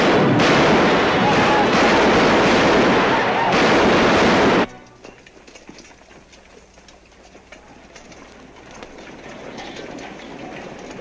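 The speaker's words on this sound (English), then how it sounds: "A lot of shooting over to the west, Captain." Gunfire in a western setting, loud and dense for the first four and a half seconds, then cutting out to a quiet background with faint rumble while a voice speaks.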